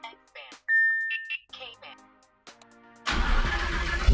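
A car powering on after its battery is reconnected during a carbon fiber magnetic paddle shifter install: a sudden loud, broad rushing burst kicks in near the end, following stretches of talking.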